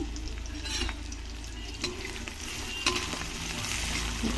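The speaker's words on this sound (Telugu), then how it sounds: "కొంచెంగా వేయించుకొని" Bay leaf, sliced onion and green chillies fry in three spoons of oil for a chicken curry, a steady close sizzle broken by occasional scrapes and taps of a stirring spoon.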